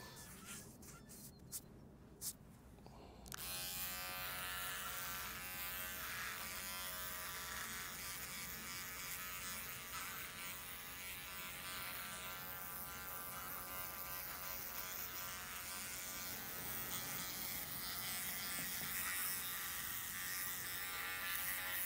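A Philips OneBlade Intimate electric trimmer buzzes steadily while shaving a face outdoors at the beach, a loud continuous motor drone that starts after a few faint clicks and runs unbroken to the end.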